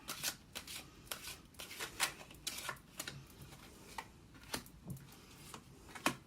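A tarot card deck being shuffled at close range, producing a series of soft, irregular riffling flicks and slaps with no talking.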